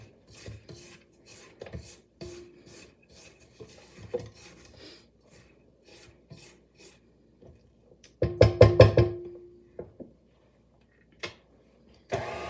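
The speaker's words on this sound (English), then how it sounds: "Scrape the inside of the bowl real quick and the paddle." A spatula scraping the inside of a mixing bowl and its paddle attachment, soft rubbing strokes repeating close by, then a brief louder cluster of scrapes and knocks near the end.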